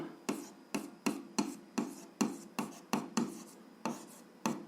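Pen or pencil scratches across paper in short regular strokes, about a dozen quick bursts, while an algebra exercise is worked by hand in a quiet room.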